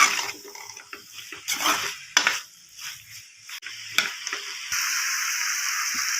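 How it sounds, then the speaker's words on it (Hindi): Spoon stirring macaroni ingredients inside a pressure cooker, giving a few scattered metallic scrapes and clinks, followed by a steady sizzle or hiss near the end; no one speaks. "बीच में मिक्स कर लेंगे अच्छी तरह से ताकि ये सारी चीजें बीच में अच्छी तरह से मिक्स हो जाएं"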